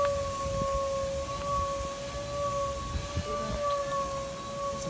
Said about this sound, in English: Here we got another one of Winter Park's tornado sirens.